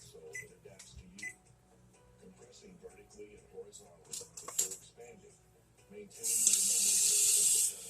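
After some quiet clinks and faint kitchen sounds, a kitchen tap turns on and water runs in a loud, steady hiss for the final seconds.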